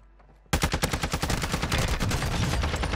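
Rapid automatic gunfire from a Call of Duty match with an ISO Hemlock loadout bursts in after a half-second lull, a loud, dense string of close shots that keeps rattling steadily to the end.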